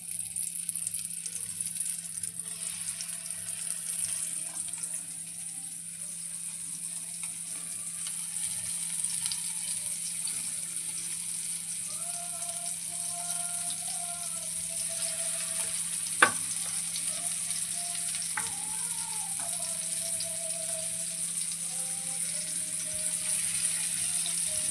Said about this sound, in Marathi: आता आपण मच्छी फ्राय करायला टाकूया.